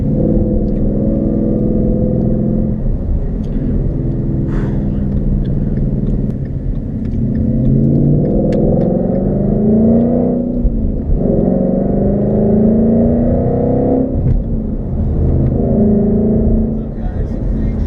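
A Ford Mustang GT's Borla exhaust rumbles steadily and loud, revving up and down a few times with a deep, throaty growl, heard from inside the car while it drives.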